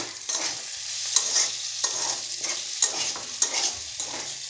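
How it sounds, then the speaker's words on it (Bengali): Fried onions stirred in a pan after turmeric and salt go in, with scraping stir strokes every second or so over a steady close sizzle; no talking. "এখন আমি বেশ ভালো করে নাড়াচাড়া করে দিচ্ছি, কারণ যেহেতু হলুদ লবণটা দিয়ে দিলাম।"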